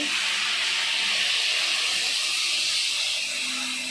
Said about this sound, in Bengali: এখন ঝোলের জন্য একটু জল দিয়ে দেওয়া হচ্ছে